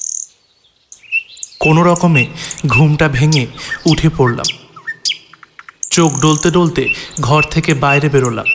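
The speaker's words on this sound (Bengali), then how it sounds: "ছোট ছোট পাখি ডাকছে" Small birds chirp and tweet in the morning outdoors, bright high calls that are briefly clear at first and then continue steadily beneath a close narrating voice.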